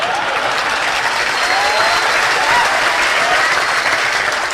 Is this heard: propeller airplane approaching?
no